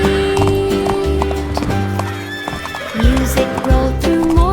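Horses neigh and clip-clop in a bright children's nursery-rhyme parade song, hooves trotting in an even beat under music, with a clear whinny midway and loud repeated clops near the end.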